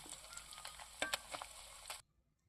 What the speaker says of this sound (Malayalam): രണ്ട് വശവും നന്നായി മൂപ്പിച്ചെടുക്കുക.